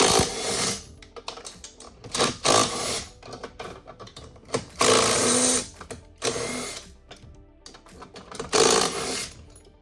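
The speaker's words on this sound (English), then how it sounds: "So I'm going to go ahead and take out these 4 10 millimeters right now." Bursts of a power tool whirring as four 10 mm bolts are backed out of the jet pump on a Yamaha Superjet 701 personal watercraft, short on-off runs with quiet gaps between, close by.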